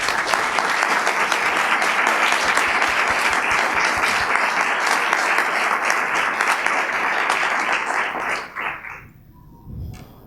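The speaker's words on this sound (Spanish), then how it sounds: "por quien pido un fuerte aplauso." An auditorium audience gives a guest lecturer, Dr. Bernardo Kliksberg, sustained loud applause, a thick even roar of clapping for about eight seconds before it fades quickly, leaving a few thumps.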